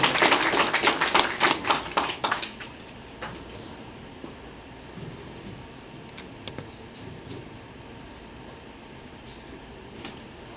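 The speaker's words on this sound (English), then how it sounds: "We're already clapping." Scattered audience hand clapping for a speaker, a handful of sharp claps in the first couple of seconds that quickly thin out to occasional isolated claps and quiet room noise.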